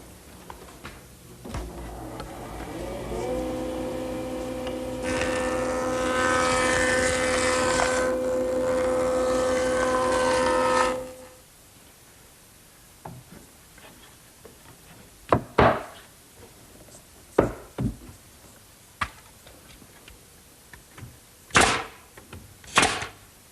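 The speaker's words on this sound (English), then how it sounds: "I'll do that at the joiner." A jointer bevels the edge of a wooden fascia board for a dovecote, a steady machine whine with a rising cutting note lasting several seconds, followed by quieter scattered knocks and clacks of handling the board.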